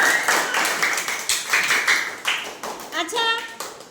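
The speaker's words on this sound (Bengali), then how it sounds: "মীনাক্ষীর জন্য জোরে তালি।" Students at a school programme clap together for a girl named Minakshi, a loud, rapid, uneven run of handclaps lasting a few seconds, with a voice rising briefly near the end.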